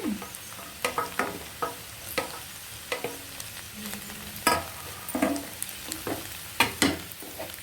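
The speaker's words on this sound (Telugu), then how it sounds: "మనం కట్ చేసి పెట్టుకున్న ఉల్లిపాయ ముక్కలు పచ్చిమిర్చి ఇలా వేసేసి" Onion and green chilies fry with okra in a pan, a soft, continuous sizzle broken by repeated spatula scrapes and taps in an irregular stirring rhythm, fairly quiet and close.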